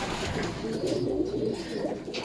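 Racing pigeons in a loft coo softly after being fed, a close, continuous layer of low throaty burbling calls that overlap one another, with faint shuffling around them and no speech.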